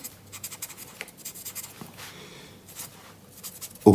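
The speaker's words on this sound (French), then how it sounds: "nous allons ici écrire semelle" Marker or chalk strokes on a board while a footing calculation is worked out, a string of short faint scratchy bursts over quiet room tone, with a louder knock at the very end.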